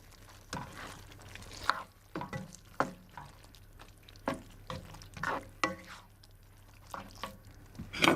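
Leftover cold cooked cauliflower, tender leaves included, is warmed through in a pan, giving soft stirring scrapes and light sizzling in short bursts with quiet gaps between them.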